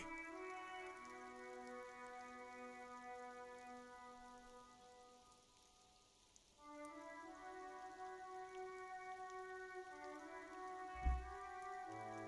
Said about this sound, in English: All around you, rain falls on the great city of Revachol